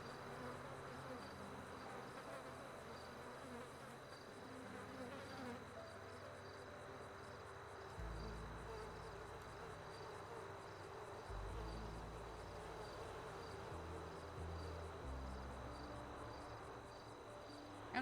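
Bees buzz around hives in a video game, a continuous insect drone close by with a high hum and steady low tones underneath, with no voices.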